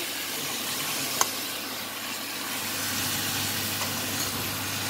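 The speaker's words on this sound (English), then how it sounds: "now I'm going to just throw in my lamb with potatoes like that, and just going to stir in" Lamb and potatoes for a curry are stirred into a hot pot, giving a steady, fairly soft hissing sizzle with one brief sharp clink of a spoon early on, no voices.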